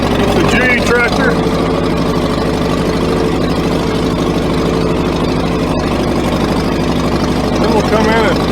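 A tractor engine idles steadily in a vineyard, a loud, constant mechanical drone running the whole time with faint chatter in the background.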